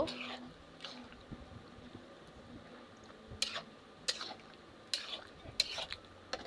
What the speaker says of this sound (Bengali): আমি সবগুলো ভালোভাবে মিশিয়ে নিচ্ছি দেখো কষানোটা আমার প্রায় শেষের দিকে